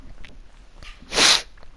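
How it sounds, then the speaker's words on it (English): A single sharp, breathy cough bursts out close by from a woman mid-conversation, loud against quiet room tone and lasting about a quarter second. "I'm just coughing."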